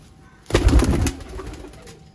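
Baby Mir pigeons, including a young dove-type chick, coo in a short burst of soft, close, throaty calls that fade into quieter murmuring.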